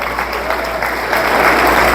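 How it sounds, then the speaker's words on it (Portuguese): A church congregation applauds together, a dense and fairly loud patter of many hands that swells slightly toward the end, with a low hum underneath. "pode aplaudir o Senhor"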